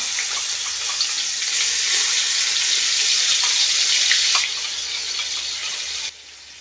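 Bay leaf and nigella seeds frying in hot oil for a Bengali potoler dorma, giving a steady, bright sizzle that holds for several seconds before dropping sharply quieter near the end.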